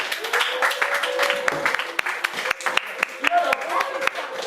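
Congregation clapping during a church worship service, a steady run of many hand claps throughout, mixed with singing and talk.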